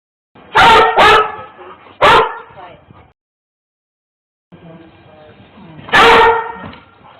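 A police search dog barks loudly during a house search, several sharp close barks in two bursts separated by a pause, with a faint voice in the background.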